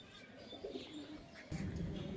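Domestic pigeons of an old-generation flying breed coo and murmur nearby, a soft low warble that swells louder in the last second, with faint chirps above.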